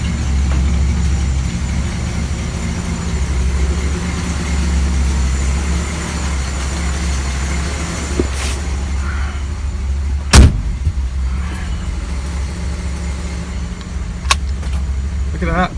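A 1958 Edsel engine idles loudly and steadily at close range, a deep continuous rumble that holds throughout, with a sharp metallic knock partway through and a few small clicks.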